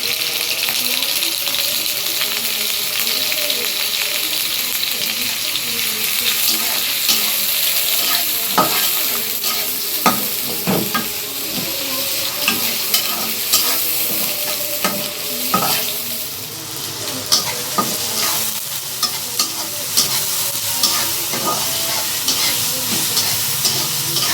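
Eggplant (brinjal) frying in a pan in a home kitchen, a loud continuous sizzle with repeated stirring scrapes and metallic clicks throughout, close and steady with no talk.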